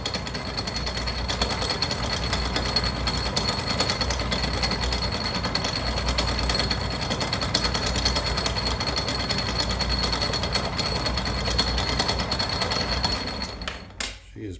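An Atlas 10-D lathe runs with an old, worn lead screw nut, making a continuous clunky mechanical clatter and hum at close range. It winds down near the end.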